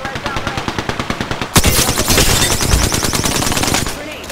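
Gunfire in the video game Apex Legends, a loud rapid automatic burst of evenly spaced shots, then a sharp blast and dense overlapping fire that trails off.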